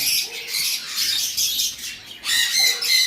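An aqua-coloured pet bird gives bursts of harsh, close squawks and chirps in irregular runs with short pauses between them.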